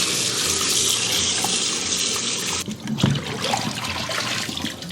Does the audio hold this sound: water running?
yes